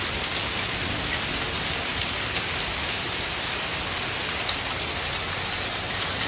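Hail falls heavily and steadily, making a dense, even hiss with no breaks.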